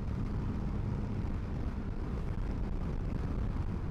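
Cold wind roars against the microphone while a motorcycle is ridden through Istanbul. A steady, loud, broadband rush continues throughout with no talking.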